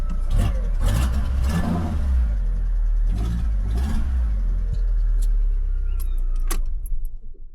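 Fiat 500 engine revving hard after an exhaust change, a loud, rough roar rising and falling in several bursts close by, then dropping away as the revs settle near the end.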